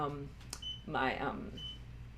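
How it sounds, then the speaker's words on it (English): A treadmill gives a couple of short electronic beeps at moderate volume, with faint voices and household background noise around them. "Sorry for the beeping."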